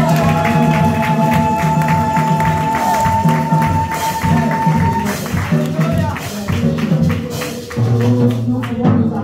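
A church congregation cheering and acclaiming the Lord, many voices raised together in loud, sustained acclaim over a rhythmic musical backing, with a voice leading above the crowd.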